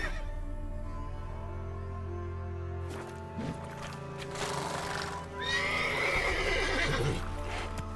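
Horse neighs and hoofbeats from the open-world game The Witcher 3, a steady clip-clop with a loud whinny near the end, set against a low ambient game soundscape.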